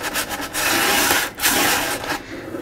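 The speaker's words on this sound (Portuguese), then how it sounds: "a gente vai usar a nossa lixa. A gente pode cortar só um pedaço dela. E a gente vai lixar toda a extensão." Sandpaper rubbed back and forth along a wooden decorated box, loud close rasping strokes in steady bursts with one brief pause.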